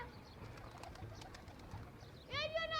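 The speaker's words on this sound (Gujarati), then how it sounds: "ઓલાના જેનિલના કબૂતર આવે મારા કબૂતર" Pigeons coo amid a noisy background at a home pigeon loft, with people talking nearby and a voice rising clearly near the end.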